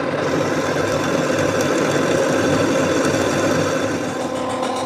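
A metal lathe steadily cuts and faces a metal part using a Korean cutting tool and cutting emulsion, producing a continuous loud whirring hum with a faint gritty rasp throughout and no talk.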